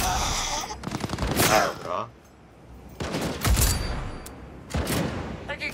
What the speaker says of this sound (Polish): Kto do mnie strzela?